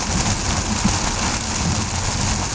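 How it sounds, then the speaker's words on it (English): Rain falls steadily, a dense, loud, even hiss heard from inside a moving vehicle with a low rumble underneath and no talking. "So again, it's coming down. It's raining. You can hear it."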